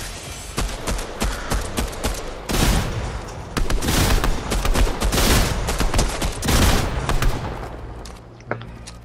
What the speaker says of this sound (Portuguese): Tá atirando já aí, ó.